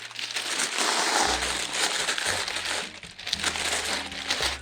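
Packing material crinkles and rustles loudly up close as a fragile ceramic piece is folded and rolled inside it, a continuous dense crackle with a few heavier handling bumps, no talking.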